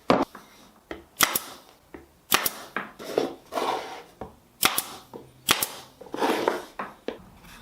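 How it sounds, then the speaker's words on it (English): A small staple gun fires repeatedly into a maple wood box, giving a dozen or so sharp, close snapping clicks at irregular intervals with handling noises in between. "I'm just gonna pin it on with the small staple gun"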